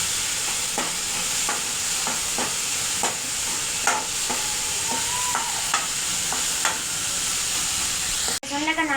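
Crushed turkey berries sizzle and fry steadily in hot oil in a pan, with a continuous hiss broken by repeated stirring scrapes, loud and close, ending in a brief clatter.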